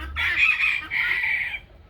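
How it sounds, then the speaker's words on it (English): A hen clucks up close in a backyard flock, two drawn-out, bright calls in quick succession, loud and clear with no talking. "She's my shiny hen."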